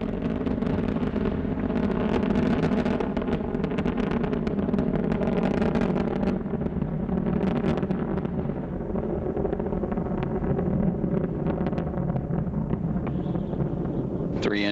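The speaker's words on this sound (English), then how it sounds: "Three engines now throttling down as Endeavour passes through the area of maximum dynamic pressure on the vehicle in the lower atmosphere." Space Shuttle Endeavour's engines roar during launch, a dense, continuous low rumble that fills the whole stretch at a steady, heavy level, with a commentator's voice partly under it.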